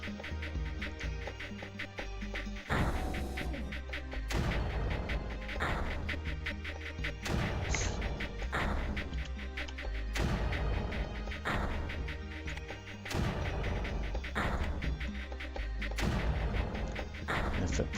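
Repeated mortar launches and impacts from the strategy video game Creeper World, sharp percussive bursts recurring every couple of seconds over a dense, steady game soundscape.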